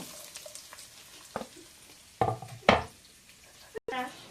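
Vegetables and browned pork fat frying in a pan, a steady low sizzle with a few louder stirring scrapes and knocks of the utensil against the pan, close by, with no talk over it.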